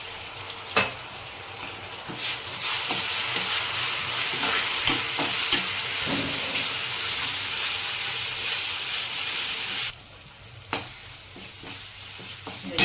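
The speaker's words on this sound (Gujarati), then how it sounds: "મસાલો તેલમાં સરસ શેકી લઈએ." Spice masala frying in oil in a pot for dabeli filling, a continuous loud close sizzle with scattered scraping and clinking of a spoon stirring, dropping quieter near the end before a final clink.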